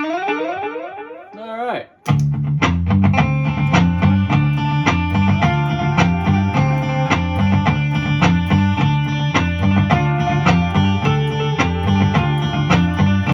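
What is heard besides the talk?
echo effect pedal added to looped music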